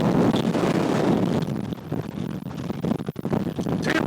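Strong gusting wind buffets the microphone on the exposed top of Bleaberry Fell in the Lake District, a loud rushing roar that surges and dips unevenly, with no talking.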